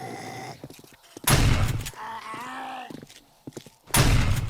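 Shotgun blasts in 7 Days To Die, two loud booming shots about two and a half seconds apart, with quieter game clatter and groaning between them.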